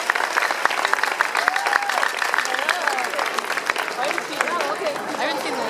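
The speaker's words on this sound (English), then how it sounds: "let's give a big round of applause for Kelly Souders and Kristin Kreuk" Loud, dense audience applause at a WonderCon panel for Beauty and the Beast, greeting Kelly Souders and Kristin Kreuk, with whoops and cheers rising through the steady clapping crowd.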